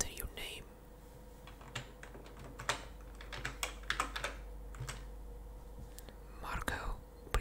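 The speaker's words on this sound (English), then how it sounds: "keyboard noises, keyboard ASMR time." Close, quiet computer keyboard typing in an ASMR setting, scattered clusters of soft key taps with pauses between bursts, accompanied by whispering throughout.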